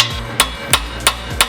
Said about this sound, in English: I'm just gonna grab a hammer and beat the hell out of it to get that tie rod to come out of that knuckle